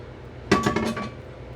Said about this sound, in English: I'm going to throw the pasta in. Just like this. And we will mix it all together